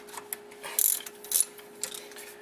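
A ratchet wrench breaks loose a caliper bolt on the front brakes of a 2003 Nissan Altima, giving a few quiet, irregular mechanical clicks and ratcheting bursts close by.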